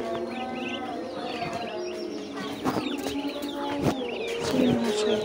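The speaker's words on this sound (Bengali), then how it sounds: "চীন হাঁসের বাচ্চা" Twenty-day-old Chinese duck ducklings calling in a busy flock, overlapping peeps and chirps running continuously at moderate level, close by, with a few louder bursts toward the end.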